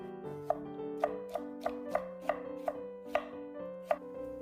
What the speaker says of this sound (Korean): 무 300g은 5, 6cm 길이의 채로 썰어둡니다.